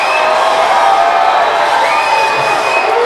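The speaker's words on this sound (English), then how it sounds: "You can hear the hometown crowd going crazy for it." A hometown crowd at a boxing fight night roars steadily throughout, a dense, loud wall of cheering and shouting with scattered whoops, no single voice standing out.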